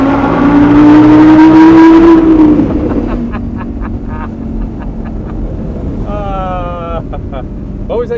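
An Audi R8 Spyder's engine roars loudly inside a tunnel, a steady droning howl that rises then fades, followed by quieter engine rumble with sharp pops and a brief revving burst near the end.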